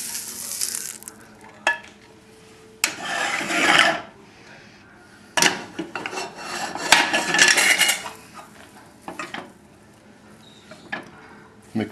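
A salad of wild rice, turkey and grilled asparagus being mixed in a bowl: scraping, rustling stirring strokes in several uneven bursts, with clinks from the utensil against the bowl and brief pauses between.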